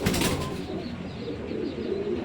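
Red checker pigeons coo in soft, low, throaty bursts close by, repeated over a faint background murmur.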